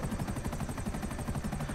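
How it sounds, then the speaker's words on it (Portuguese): A missile-armed helicopter in the video game GTA 5 hovers nearby, its rotor blades chopping in a fast, even rhythm over a loud steady engine drone. "Esse helicóptero."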